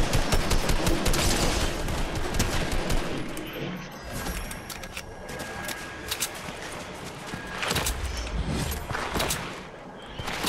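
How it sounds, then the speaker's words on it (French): Rapid bursts of video game gunfire from a Fortnite-style battle royale match crackle at a distance, with several dense volleys rising and falling over a steady background and no talk. "Ah mais ça tire encore là-bas"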